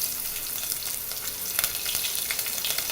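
Onions frying in hot sesame oil with popped mustard seeds and curry leaves for a dried-fish curry: a dense, continuous bright sizzle with small crackles, close and steady throughout.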